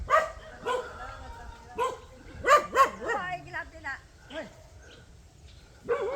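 Dogs barking in a street setting in Dauin, Philippines, a series of sharp, separated barks and yips at moderate distance, with some overlapping and a pause midway.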